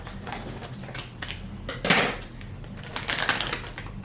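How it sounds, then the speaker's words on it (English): A frozen Durio lowianus durian is cut open with a knife, making scattered close scraping, cracking and knocking sounds with one louder crunch partway through. "Let's cut this open."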